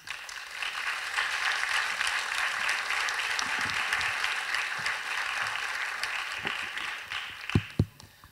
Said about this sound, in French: On peut applaudir François